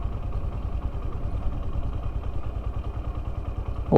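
Honda Hornet 125 motorcycle rolling in third gear with the throttle released, a steady low engine drone with clattering texture, close and unbroken throughout.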